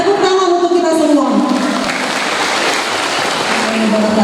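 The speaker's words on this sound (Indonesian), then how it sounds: "Tepuk tangan untuk kita semua." Applause at a midwives' association anniversary celebration, a steady full-room clapping wash that carries on loudly throughout, with voices mixed in underneath.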